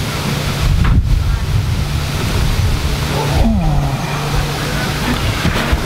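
A light outdoor breeze rushes steadily across the microphone with a soft, continuous buffeting, alongside a low hum and a brief passing whine midway.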